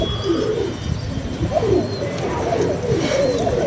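Pigeons on a rooftop loft coo repeatedly in soft, throaty bursts, close by, with faint chirps and steady background hum.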